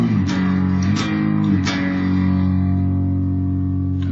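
Electric guitar strumming a song's chord progression with a driven, slightly distorted tone, a few rhythmic strums then a chord left ringing out and sustaining steadily to the end, no talking.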